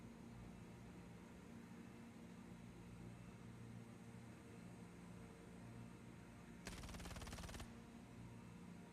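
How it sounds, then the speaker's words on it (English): A short burst of rapid gunfire from the video game Star Citizen breaks briefly through a quiet, steady background hum, lasting about a second before the low drone returns. "Ooh, gunshots. That was me."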